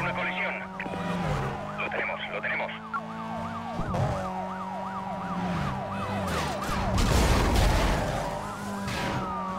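Police sirens wail in pursuit during a chase in Need for Speed Most Wanted, the rising and falling tones of several cruisers layered over a steady engine drone and a burst of crash noise, all continuous and loud.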